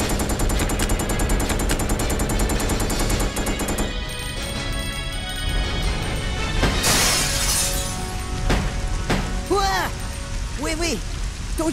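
Gunfire in Resident Evil Code: Veronica X, a rapid burst of shots followed by scattered impacts and shattering, with a voice speaking over the later part.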